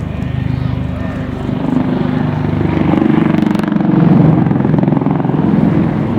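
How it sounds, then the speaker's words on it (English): A Westland Lynx helicopter with twin 900 horsepower Rolls-Royce Gem engines flies a display at an autumn air show at Duxford, its steady, loud rotor beat and turbine whine swelling slightly as it passes. "Two 900 horsepower Rolls-Royce GEM engines powering the Lynx."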